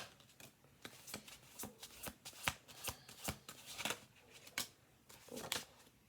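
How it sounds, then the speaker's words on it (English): A deck of tarot cards is shuffled by hand as a run of quick, crisp riffles and flicks in uneven bursts. The sound is close but quiet, with no talk. "We'll do 2 more shuffle throughs"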